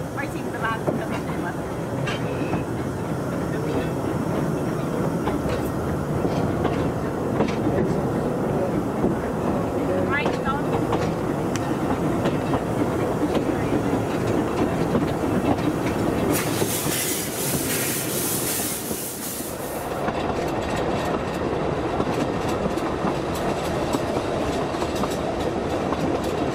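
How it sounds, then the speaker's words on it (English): A Talyllyn Railway train runs along the track between Tywyn and Abergynolwyn, giving a steady close rumble and rattle of carriages throughout, with a brief louder hiss partway through and people talking over it. "I heard the train stop."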